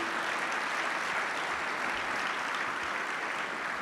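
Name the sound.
audience applause for the servers at a breakfast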